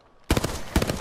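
A short burst of Apex Legends gunfire: a few rapid shots, then a second quick volley, loud and close, with no voices.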